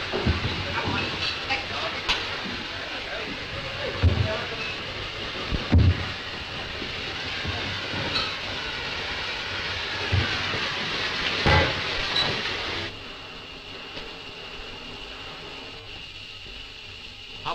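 Trains rumble and hiss at a tunnel station, a steady mechanical roar with repeated knocks and clanks, then dropping to a quieter hum near the end.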